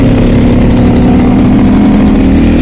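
A Ducati Desmosedici motorcycle engine runs loud and close with a steady, throbbing mid-pitched drone and no clear revving, alone without any talking.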